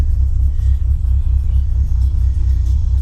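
Renault Twingo with a swapped 2.0 litre turbo engine idling while warming up, a loud, close, deep rumble with a steady throbbing pulse and no talking.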